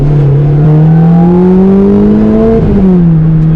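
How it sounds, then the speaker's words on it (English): A supercharged Lotus Exige S S2 engine revs steadily upward with a rising supercharger whine, dips briefly, then settles; close and loud with no talking. "We get the revs up, should we see?"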